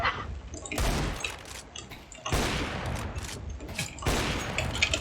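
Bursts of rapid gunfire from the video game CS:GO, three loud sustained volleys separated by short pauses, with no talking over them.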